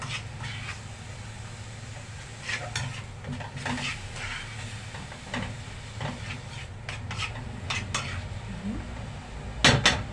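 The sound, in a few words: onions sautéed with ghee in a pan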